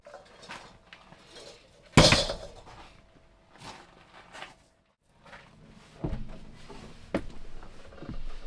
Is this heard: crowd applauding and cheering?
no